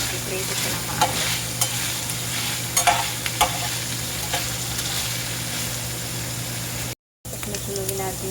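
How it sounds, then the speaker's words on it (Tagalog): Chicken fries with a steady sizzle in a pan with intermittent clinks of stirring, close by, with a low constant hum underneath. "I-prito ko ng maayos."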